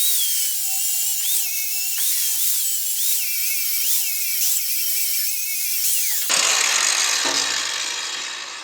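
A small Fein angle grinder strips paint from steel, its high whine rising and dipping in repeated pulses as it bites and eases off, then giving way to a harsher, broadband grinding roar near the end.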